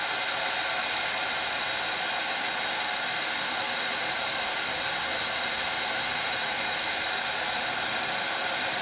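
A heat tool warms embossing powder on a handmade Christmas card, producing a loud, steady, close blowing hiss like a hair dryer that holds constant throughout, with no talking.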